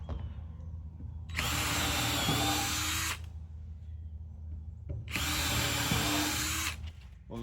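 Power drill driving screws down through wooden trailer boards, heard as two sustained, loud, close whirring runs of nearly two seconds each, separated by a quieter pause.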